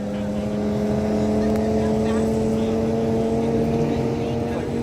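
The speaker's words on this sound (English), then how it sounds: "that Audi is booking it" An Audi accelerates hard at a half-mile top-speed shootout in Florida, its engine a steady droning whine held at high revs for several seconds, with voices nearby.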